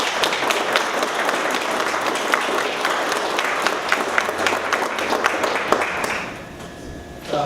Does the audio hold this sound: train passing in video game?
no